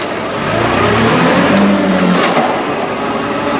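Mitsubishi lift truck engine revving while its faulty clutch is tested, a loud, close mid-pitched rev that swells and holds steady, no voices.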